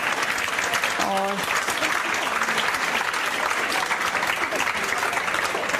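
A hall crowd claps loudly and continuously for a girl's Delhi Police selection, dense steady applause throughout while a voice briefly speaks over it.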